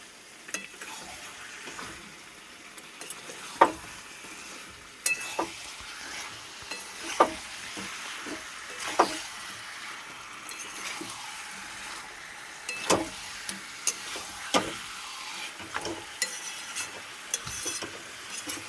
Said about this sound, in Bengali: ভালো করে নাড়াচাড়া করে নিতে হবে।